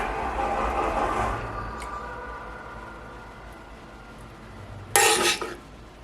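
Spoon scraping and smearing enchilada sauce across the top of a dish, with soft wet scraping at first, quieter handling after, then one sharp clatter near the end.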